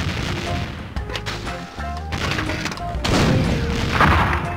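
Gunfire and booming blasts from The Curse of Monkey Island, a rumble of shots and thuds running throughout, loud and close, mixed with other game sounds and voice-like tones.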